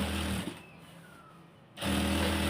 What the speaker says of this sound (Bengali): এখন এটাকে ডাবল সেলাই দিয়ে দিব